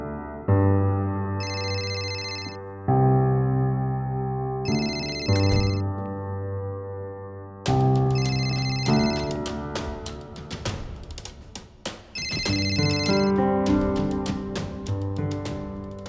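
A phone ringtone plays a repeating melodic tune over and over for about sixteen seconds, loud and close, with brief gaps between rings and no one picking up.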